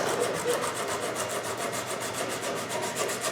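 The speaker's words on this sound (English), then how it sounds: "We use this 60 grit to get rid of the rasp marks." 60-grit sandpaper scrubs wood to remove rasp marks, producing close, rhythmic back-and-forth rasping strokes in a quick, even pattern, with no voices.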